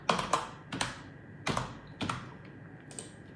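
Computer keyboard keys pressed while drafting in AutoCAD: a handful of crisp, separate clicks and taps spaced unevenly, close and clear with no talking.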